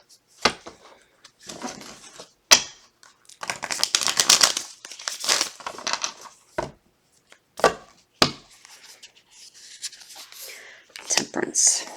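Tarot cards are shuffled by hand in quick, irregular bursts of papery riffling and rustling, close and fairly quiet, with short pauses between shuffles.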